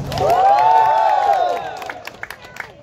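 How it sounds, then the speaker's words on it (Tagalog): A large crowd gathered for a local event cheers and shouts, a swelling roar of voices that peaks early, then fades into scattered claps and calls. "Magpalakpakan na may kasamang sigawan"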